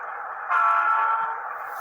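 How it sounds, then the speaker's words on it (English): A model train locomotive sounds a whooping horn, a steady tone that swells in suddenly and holds for just over a second before easing back, heard alone over a constant background hum. "Did you hear the whoop sound?"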